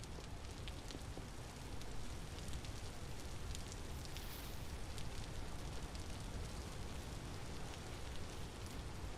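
Rain falls steadily in the video game Vintage Story, a dense, even hiss of drops with faint scattered patters, soft and continuous throughout.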